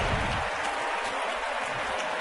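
Loud, sustained roar of a postseason baseball crowd in Minnesota cheering the Twins' leadoff single, a dense wash of voices and applause filling the stadium without pause.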